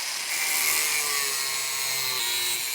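A steady, high-pitched grinding hiss runs without a break as a tool cuts a slot into an old metal bearing race on a Land Cruiser 100 front hub, close and loud.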